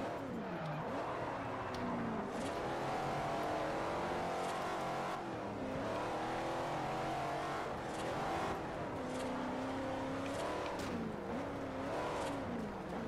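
Race car engine in the video game Forza Horizon, running steadily throughout, its pitch rising and falling with shifts and revs; constant and fairly loud, with no talk over it.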